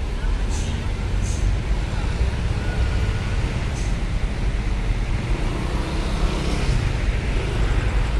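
Trucks and other vehicles queuing at night at Bakauheni ferry port, a steady low rumble of idling engines and traffic across a crowded lot, with someone talking over it.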